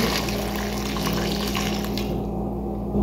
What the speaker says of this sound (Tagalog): Tapos yung sabaw niya lagay natin.